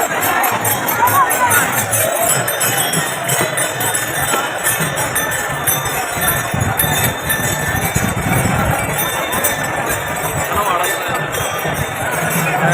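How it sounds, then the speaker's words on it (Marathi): A dense crowd of pilgrims on a bridge during the Sant Dnyaneshwar palkhi procession, a steady roar of mingled voices, shuffling and faint clinking, continuous and close throughout. "ब्रिजवर पण एवढी गर्दी आहे पुढे जाणारी आणि इकडं कोणत्यात येणारी पण गर्दी भरपूर आहे"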